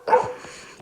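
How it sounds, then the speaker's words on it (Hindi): A single dog gives one short, sharp bark, fairly faint and somewhat distant, in an otherwise quiet indoor setting. "कुत्ते भौंक रहे हैं यार"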